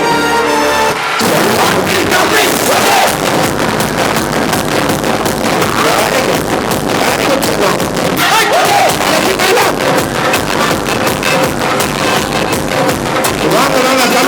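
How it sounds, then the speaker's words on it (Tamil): Sustained, dense applause from an audience at a Shiksha Schools event in Pallikonda as staff walk up to the stage, with loud, steady clapping after a brief quieter opening. "ஓ, ஸ்டேஜ் போற வரைக்கும் கை தட்டணும்."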